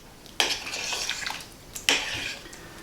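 A utensil stirring sour cream into a pot of goulash, two sharp scraping clinks against the pot about a second and a half apart, each followed by soft wet churning, close and fairly quiet.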